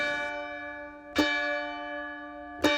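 Two loud church bell strikes ring out about a second and a half apart, each with a sharp onset and a long sustained harmonic hum, heard at a nativity-scene Epiphany procession stage.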